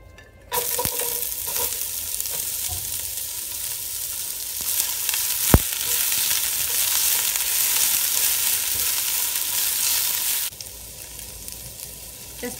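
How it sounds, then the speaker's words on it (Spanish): Chopped onion sizzles in hot oil in a frying pan for a steady ten seconds, a loud, close, continuous crackling hiss that starts abruptly and cuts off near the end, with no talking. "Vamos a poner a calentar un sartén y ahí vamos a agregarle aceite. Agregamos la cebolla."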